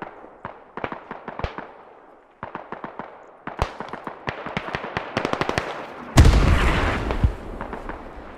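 Artillery barrage in the tactical shooter Squad: a long run of sharp, booming impacts in irregular bursts, some distant and some near, ending in a loud, close blast with a roar that lingers.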